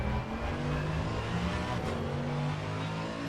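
Race car engine lapping Spa in wet conditions in Assetto Corsa Competizione, a steady loud drone with shifting pitch under smooth throttle, continuous and close throughout.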